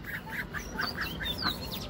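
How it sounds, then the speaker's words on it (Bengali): Two male ducks give a rapid series of short, raspy quacks, about eight in quick succession, close by against a faint background hiss. "এটা পুরুষ হাঁস, ও আমাকে কামড় দেয়, দুইটা পুরুষ হাঁস।"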